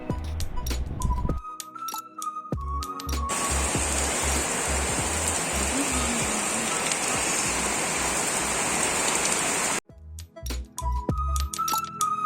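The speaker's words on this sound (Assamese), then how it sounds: "পোৱাৰ মাত্ৰকে আৰম্ভ কৰিলে দিবলৈ দবা পিটা বৰষুণ" Heavy rain pours down in a dense, loud, continuous hiss, framed by short bursts of background music at the start and end.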